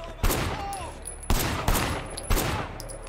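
Gunfire in the video game Sleeping Dogs, four loud sharp shots spaced about a second apart over a steady background of game noise, with no speech.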